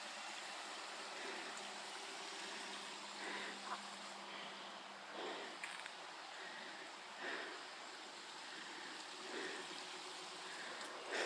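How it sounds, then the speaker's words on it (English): A waterfall rushes steadily in the dark, a faint, continuous hiss of falling water with a few soft rustles and knocks nearby. "You can hear the waterfall, but you can't see it."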